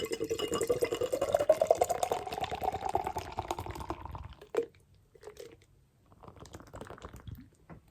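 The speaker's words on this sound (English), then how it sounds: "despite a hard pour, just a couple of fingers of fairly loose white head" Double IPA beer poured hard into a glass, a continuous splashing fill for about four seconds, then a short splash and a few quiet fizzing and clinking sounds.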